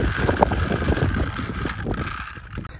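A child drives a kids' toy tractor, its small motor whirring with rattling and bumping under wind noise close to the microphone, loud throughout and easing slightly toward the end.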